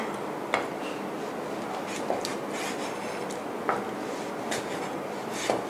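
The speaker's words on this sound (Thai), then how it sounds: "หั่นหนังหมูกันนะคะ" A knife cuts through firm pork skin on a board, with four sharp, evenly spaced thunks over a steady background hiss.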